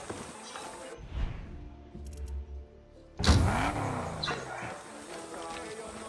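A car engine in Far Cry 6 idles low, then a sudden loud burst of engine noise and rumble kicks in about halfway through and carries on steadily to the end.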